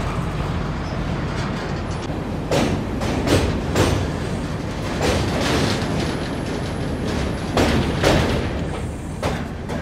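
Durg–Nizamuddin Humsafar Express train moving slowly across a bridge under maintenance, a loud continuous rumble heard from on board with repeated wheel clacks spaced irregularly over the joints.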